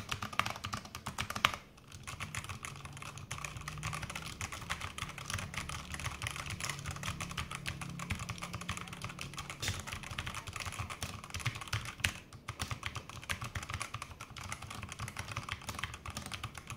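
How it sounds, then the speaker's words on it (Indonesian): Continuous fast typing on an NYK Helens MKN-06 budget mechanical keyboard with brown switches: dense, close, steady clacking with only brief pauses and no talk. "Tapi untuk sebuah keyboard budget, brown switch-nya udah lumayan banget."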